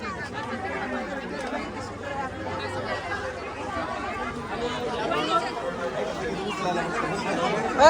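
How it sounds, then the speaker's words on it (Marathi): A dense crowd chatters at Jejuri temple, a steady, close wash of overlapping voices with no single speaker standing out. "असली डेंजर गर्दी आहे."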